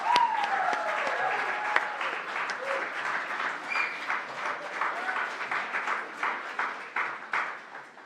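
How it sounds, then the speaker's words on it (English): An audience at a student guild elections results night applauds the candidates, with dense clapping at first that thins into scattered individual claps, and a few voices briefly heard at the start. "can we please give a round of applause for our candidates tonight?"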